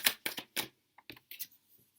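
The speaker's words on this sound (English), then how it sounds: "Keep shuffling." Tarot cards are shuffled by hand, producing quick papery flicks and taps in small bursts, close and fairly soft, with brief pauses between them.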